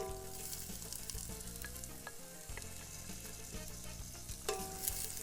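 Onions sauté in olive oil in a pan for a fish stock, giving a steady, close crackling sizzle with occasional light clicks and stirring sounds, and no talking.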